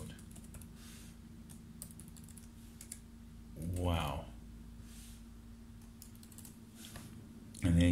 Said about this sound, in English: This is me typing on my S7 Plus keyboard.